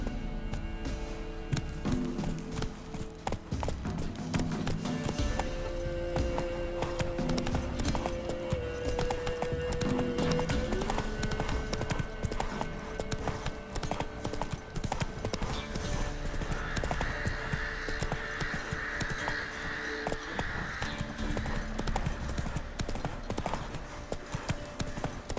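Roach, a horse in The Witcher 3, gallops with steady, loud clip-clop hoofbeats running throughout, set against game music and ambient sound.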